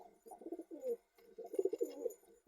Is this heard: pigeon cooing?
yes